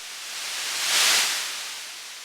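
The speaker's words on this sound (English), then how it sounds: "we've also got a noise source here if we want to turn that on." A Moog Matriarch synthesizer's noise source gives a steady hiss of white noise that swells slightly louder in the middle and then eases back, with no other sound and no talking.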